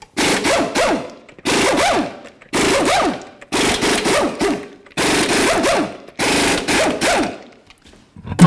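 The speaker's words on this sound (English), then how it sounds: "Remove all 6 of your 21mm lug nuts." An impact wrench removing six 21mm lug nuts from a Ford Expedition wheel fires off six loud, rattling bursts of about a second each, separated by short pauses, close up.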